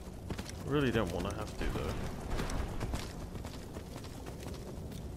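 A horse in Skyrim clip-clops along at a steady pace under a voice, with a short whinny near the start and hoof thuds continuing behind the talk.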